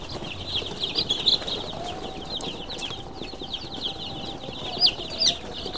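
Laying hens cluck and chatter in a steady, dense chorus during Gumboro vaccination, with a few louder squawks standing out near the end; no talking.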